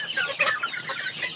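Chickens cluck and chatter in a steady, dense layer on a poultry farm of around 700 birds, many voices blending at moderate volume with no speech.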